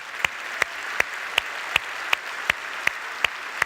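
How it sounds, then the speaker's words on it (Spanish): Evenly spaced single claps, about ten sharp hits at a steady beat, from a church congregation during worship; fairly faint and without crowd roar. "Dale un fuerte aplauso a Dios"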